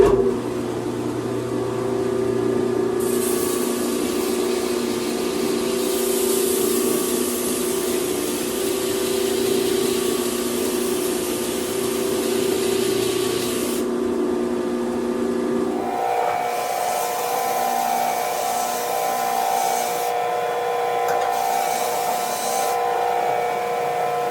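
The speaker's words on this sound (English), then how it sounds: "It just needs to be sharpened now. All right, 400 grit, slowest speed." A knife is sharpened on a 400-grit abrasive belt at its slowest speed, giving a steady grinding hum with a constant machine drone throughout and a change in pitch partway through.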